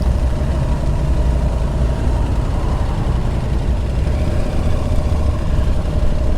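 An Aprilia Tuareg 660 motorcycle engine idles nearby with a steady, loud, low rumble that holds constant throughout, no voices heard.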